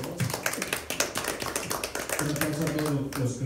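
Clapping from people gathered at the opening of a sonidero exhibition in Manhattan, New York, a steady patter of hand claps with some faint talking underneath.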